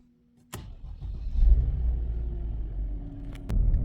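A Mercedes-Benz with a freshly serviced 7G-Tronic 722.9 automatic transmission fires up and rumbles on a test drive, with a door clunk at the start and low engine drone rising steadily, with another thump near the end.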